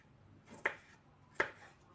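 A knife cuts through food on a board in two sharp, separate strokes, close and fairly quiet, with a soft hush in between.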